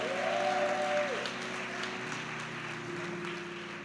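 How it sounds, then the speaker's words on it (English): Audience applause for President Johnson at a church convention annual session, a steady wash of clapping through the whole stretch, with sustained organ or keyboard tones running beneath it. "Let's give President Johnson a big, rousing round of applause."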